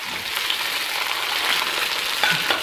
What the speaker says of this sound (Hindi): अब मैं इसमें लहसुन डालूँगी, और साथ में हरी मिर्ची का पेस्ट भी डाल दूँगी और टमाटर भी डाल दूँगी।